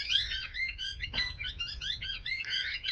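Parrots call near their nest in a tree, a busy stream of high, chattering squawks and chirps that keep overlapping for the whole stretch, fairly close and fairly loud, with no talking.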